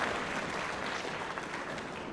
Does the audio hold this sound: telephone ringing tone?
no